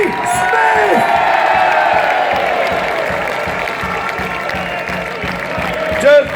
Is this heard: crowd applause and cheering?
yes